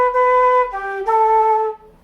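A flute in a traditional music workshop plays a short run beginning on a low B, then steps through a few more sustained notes. The tone is clear and breathy, close and unaccompanied.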